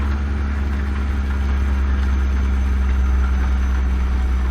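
A Freightliner FLD truck with a Caterpillar C-15 engine drones steadily in a driving game, a loud, constant low engine hum holding even throughout with no break.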